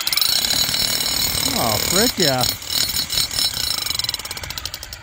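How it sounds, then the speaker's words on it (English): A big Bosch hammer drill, on hammer-only mode with no spin, pounds in a rapid, loud rattling rhythm that stops and restarts, with a man exclaiming briefly over it. "we're going to see if it'll run this big Bosch hammer drill."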